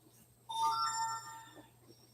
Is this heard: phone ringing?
yes